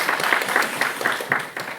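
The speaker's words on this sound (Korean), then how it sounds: "우리 애들에게 응원의 박수 한번 치겠습니다" A church congregation claps together during a Sunday worship service, steady rhythmic applause filling the room for a couple of seconds.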